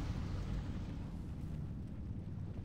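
An explosion in World of Warcraft, heard as a sustained low rumbling roar that runs steadily through the whole stretch without any distinct sharp blast.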